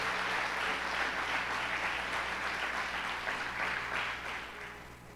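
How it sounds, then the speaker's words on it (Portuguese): Church congregation applauding in praise during a service, a steady dense wash of clapping from many hands that carries on for the whole stretch with no talking over it. "Quem pode aplaudir a Jesus pela vida dos pastores aqui?"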